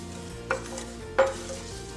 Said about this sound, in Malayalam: കുറച്ച് കറിവേപ്പില ഇട്ട് കൊടുക്കുകയാണ്. ഇതും കൂടെ നമുക്ക് വറുത്തെടുക്കാം.